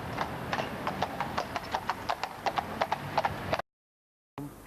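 Hooves of a pair of 10- and 11-year-old Polish carriage horses clip-clop through London traffic in a quick, even rhythm of sharp strikes, fairly close, before the sound cuts out abruptly and then briefly returns.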